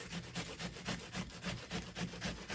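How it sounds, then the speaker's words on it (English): An onion is grated for a hash brown breakfast bowl at a camp setting, giving brisk, rhythmic rasping strokes, roughly four per second, close and steady. "we're gonna grate some onion in here"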